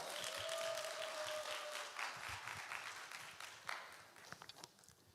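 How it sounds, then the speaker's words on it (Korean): A high school church congregation claps to welcome a preacher to the front, a dense, fairly quiet round of applause that thins out toward the end. "우리 앞으로 나오실 때 우리 환영하는 마음으로 박수 한번 할까요?"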